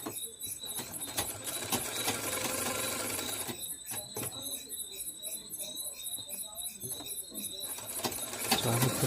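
Sewing machine stitching around the edges of a katori blouse, a steady mechanical whirr with a rapid ticking pattern running through most of the clip, briefly pausing near the middle before resuming, with light background noise.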